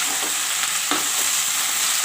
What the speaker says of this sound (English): Now this will fry. It will half fry now.